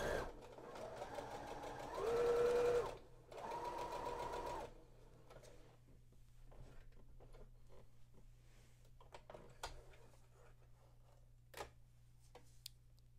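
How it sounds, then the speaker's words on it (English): Sewing machine stitching a dart on a fabric N95 mask cover, a fast buzzing run of stitches in short bursts, then stopping and leaving quiet handling sounds and faint clicks. "I'm going to sew the dart by starting at the notch and sewing until I get to the dart."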